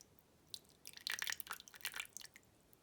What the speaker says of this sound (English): I'm just going to pour the water right into here